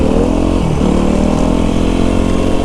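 A four-stroke enduro motorcycle accelerates off-road, its engine a loud, close, steady drone whose pitch dips briefly and then climbs again as it pulls.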